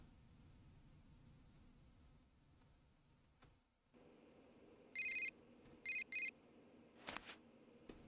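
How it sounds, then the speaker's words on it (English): A short electronic text message alert from Persona 4 Golden chimes in a quick pulsing burst, then repeats as a double burst over quiet game background music, with a brief sharper tone near the end. "You received a text message."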